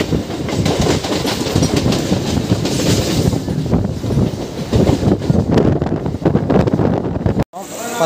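A local commuter train on the Chennai Central to Tiruttani line rumbles and clatters along the rails with constant wind rush, heard from inside the carriage, with a brief drop in the noise near the end.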